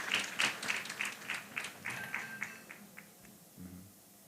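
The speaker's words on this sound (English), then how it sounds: "A round of applause for them." Applause from a small audience at a paediatric association conference welcomes the session chairs to the podium: a dozen or so distinct, fairly loud claps in a loose rhythm that thin out and stop, followed by a brief low murmur.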